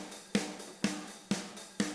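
A programmed EZDrummer beat with every kick drum removed leaves four evenly spaced snare-like hits with bright cymbal wash, steady and close, each hit decaying before the next.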